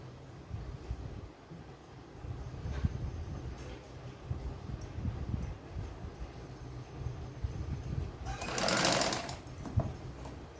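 Domestic sewing machine stitching pieces of a katori blouse, its steady mechanical whirr running continuously at moderate volume with a brief brighter rattle near the end.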